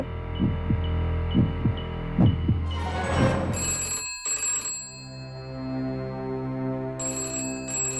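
A telephone rings with steady electronic tones in bursts, over a low continuous hum and some rhythmic thumping earlier on.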